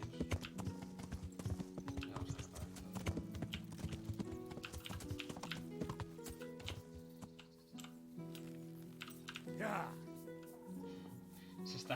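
Horse hooves clip-clop in the medieval video game Kingdom Come: Deliverance, a steady rhythmic clatter under continuous game music and a talking voice.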